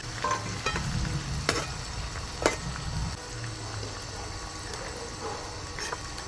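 Bhetki fish bones frying in rendered fish fat in a pan, a steady crackling sizzle with brief stirring scrapes and clinks, close and moderate in level with no talking.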